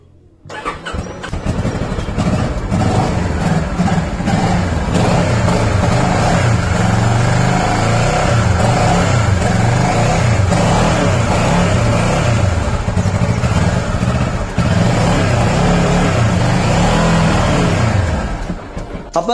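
A Kawasaki Ninja 650 motorcycle engine starting up, then idling and revving in neutral, with several rising and falling throttle blips, loud and close, running alone without voices.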